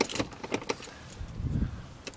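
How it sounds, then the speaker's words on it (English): A car key slides into the ignition with a quick metallic jingle of keys and a few small clicks, close and brief, followed by a faint low rumble in a quiet car. "Next up, pop the key in"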